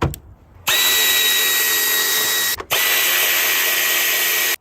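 A power drill drives a cheap fastener during an engine replacement on a Toyota Tundra, running in two loud, close, steady bursts of about two seconds each with a short pause between them and no talking.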